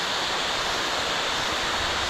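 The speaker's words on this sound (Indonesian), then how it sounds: "Ini air terjun ya" Steady, dense rushing of a high waterfall (Giting waterfall, Meratus Mountains), a continuous broadband roar with no pauses or voices.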